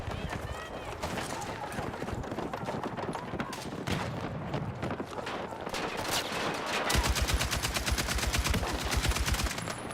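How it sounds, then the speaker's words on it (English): An M60 machine gun firing in a shooter game, ongoing gunfire and impacts with a sustained rapid automatic burst near the end, loud and close, with someone talking over it. "It's so satisfying to shoot this gun."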